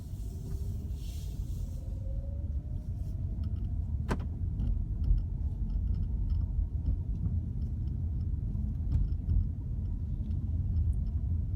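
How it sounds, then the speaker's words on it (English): Ford Fusion Energi plug-in hybrid pulling away on electric power alone, a low steady rumble of road and tire noise with a faint rising motor whine and a few small interior clicks, no engine sound and no talking. "Pretty quiet, huh? It's all electric motors right now."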